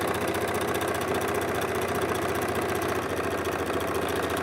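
A sewing machine runs continuously at an even speed, its motor and needle producing a steady, rhythmic mechanical whir from start to finish.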